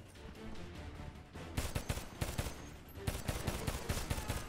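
Gunfire from the video game Homefront, played on PC, comes as rapid automatic bursts. A quieter stretch gives way to dense, punchy volleys that continue steadily to the end, with no voices.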